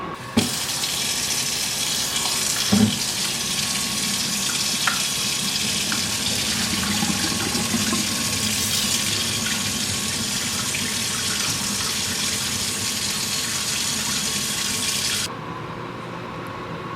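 Cooked orzo pasta poured out to drain in a kitchen sink, a steady loud rush of running water lasting most of the stretch, then cutting off abruptly near the end with a brief quieter tail.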